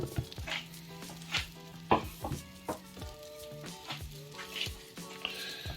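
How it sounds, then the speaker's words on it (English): Bacon and cheese sizzle on bread in a Ninja Foodi air fryer amid busy kitchen clatter, with repeated knocks and scrapes of utensils across the whole stretch. "you can hear that sizzling away there"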